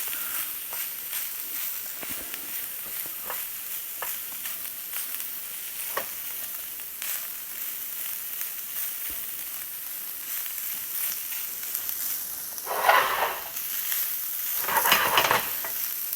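Jerk-seasoned cabbage and carrots sizzle steadily in a pan for a vegan bowl, with occasional scraping stirs and two louder bursts of stirring near the end.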